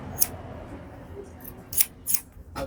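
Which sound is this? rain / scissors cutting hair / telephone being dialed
scissors cutting hair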